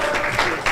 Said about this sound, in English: give applause for all of us